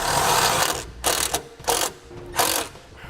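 Self-tapping screws being tightened into a vehicle's metal core support with a ratchet, heard as close, loud bursts of clicking separated by short pauses, with no talking.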